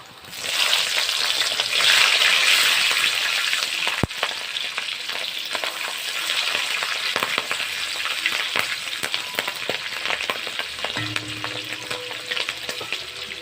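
Black cumin, fenugreek and slit green chilies fry in hot oil as a spice tempering, a steady close sizzle with scraping stirs and a sharp clack from the pan partway through.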